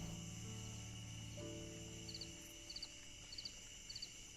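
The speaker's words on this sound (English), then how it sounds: "Piano and crickets." Crickets chirp in a video game level, small quick triple-pulse chirps repeating at a steady pace, faint and set against a soft piano tone and a quiet background hum.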